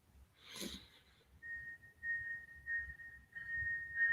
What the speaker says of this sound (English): And the train's going by my house. Ooh, hear that whistle.